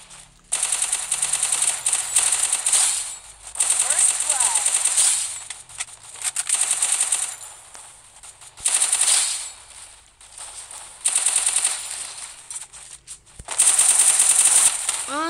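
Shotgun gunfire in the Free Fire video game, rapid bursts of loud, crackling shots repeating in clusters over several seconds, with in-game action noise between volleys.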